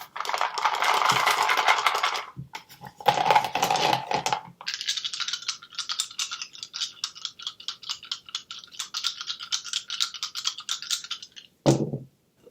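Rune stones are cast and tumble onto a surface in a clattering burst, then a second burst, followed by a long run of small rapid clicks and taps as they settle, close and fairly clear.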